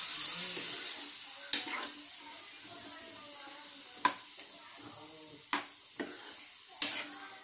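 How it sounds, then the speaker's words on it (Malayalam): Cooked chickpeas stirred in a pan, a steady sizzle with scraping stirs and several sharp clacks of a utensil against the pan, at close range with no talk. "ഇനി അതിലേക്ക് കടല ഇട്ട് കൊടുക്കും."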